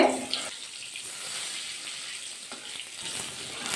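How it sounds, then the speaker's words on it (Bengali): Eggplant pieces sizzle in hot oil with a soft, even hiss, and a few faint scrapes come as they are turned in the pan; no one speaks. "উল্টে পাল্টে কিন্তু বেগুনটা ভালো করে ভাজা করে নিতে হবে"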